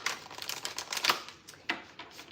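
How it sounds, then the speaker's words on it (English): Tarot cards being shuffled during a collective tarot reading, a quick run of crisp, papery riffling clicks up close, swelling and fading in short bursts with a sharper flick near the end, no voice. "All right, last shuffle for the collective."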